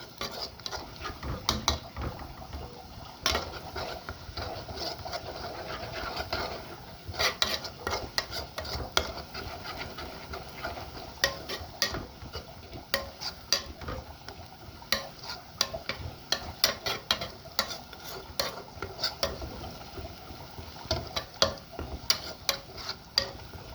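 Onions frying in a pan with tomatoes stirred in for a stuffed-vegetable (mahshi) sauce, giving a steady low sizzle broken by frequent scraping and clinking of a spoon against the pot.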